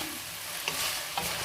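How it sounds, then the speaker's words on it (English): Bean sprouts and garlic chives stir-fry for noodles with a steady close sizzle and a couple of quick spatula scrapes against the pan. "When you stir fry with the bean sprout and the garlic chive, you just stir it quickly."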